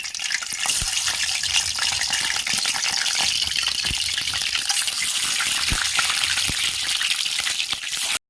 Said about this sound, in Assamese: এতিয়া ডিমকেইটা অলপ ফ্ৰাই কৰি লৈছোঁ